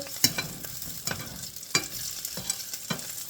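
Lentil sausage sizzles gently in a pan after being flipped, with a few soft scraping thuds from the spatula over a quiet frying hiss.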